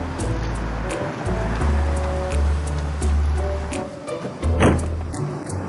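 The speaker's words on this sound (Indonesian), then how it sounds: "Angin di Anceng kok kenceng banget ya?" Strong wind buffeting outdoors in Anceng, a loud continuous low rumble with gusts swelling and easing, alone without talk.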